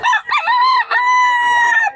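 Roosters crowing at a poultry market in Bocaue, with long harmonic crows following one another closely and loudly, and brief clucks and market chatter in the gaps.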